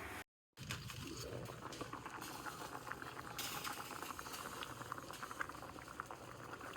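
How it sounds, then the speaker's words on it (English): A pot of red kidney beans bubbling at a steady rolling boil, continuous close popping and gurgling with no talk. "Boiling the red kidney beans for the rice and peas."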